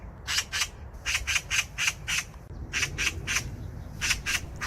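A magpie squawking in harsh, rapid clusters of raspy calls, repeated in several bursts over a steady low background rumble, fairly close and loud.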